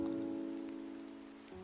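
Continuous Minecraft rain pattering as an even, moderate hiss beneath sustained game music, no voices present.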